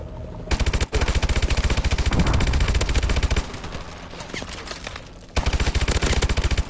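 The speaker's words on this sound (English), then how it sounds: "this gun's pretty good." A gun in the video game Exo Survival firing in long rapid automatic bursts, loud and close, with a short break after the first burst and a quieter lull before a final burst.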